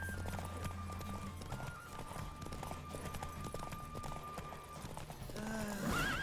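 Horse hooves clip-clop at a gallop in The Witcher 3 on PC, with a whinny near the end, steady and close under continuous game ambience and music.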